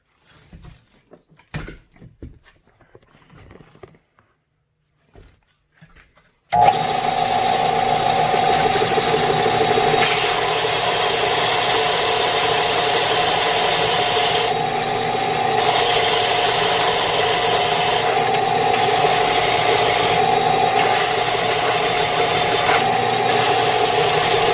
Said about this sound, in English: So now we'll go to our sanding station.